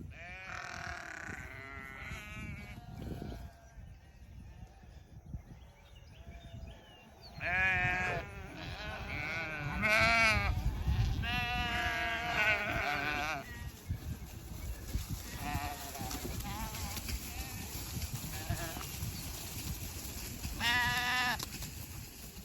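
Many sheep bleating repeatedly, near and far, overlapping calls over an outdoor background with some low rumbling.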